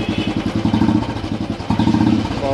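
A Royal Enfield Classic 350 BS6 motorcycle with an aftermarket exhaust runs with a deep, throaty, rapid-pulsing exhaust note, loud and close, with a brief blip of revs partway through.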